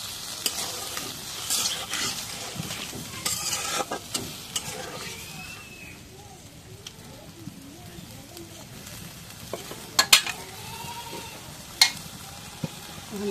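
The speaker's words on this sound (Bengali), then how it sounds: "এখন এই যে মাছ আর আলু একখানে করে দিয়ে তারপরে কষানি করি" Fish and potatoes are stir-fried together in a pan for a spinach curry, giving a steady close sizzle with scattered scraping and clinking from stirring and a few sharper knocks near the end.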